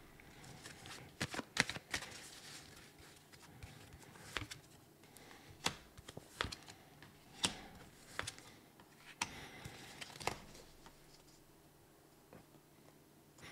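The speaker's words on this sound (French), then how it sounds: "Alors, je vais rajouter des cartes quand même." Playing cards are handled and shuffled at a table: quiet, close-up papery flicks and snaps come in scattered bursts, soft and intermittent.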